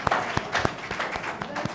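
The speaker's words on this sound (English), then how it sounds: "So a big round of applause for him." Scattered applause from an award event audience, loose irregular clapping at moderate distance, thin rather than a full ovation.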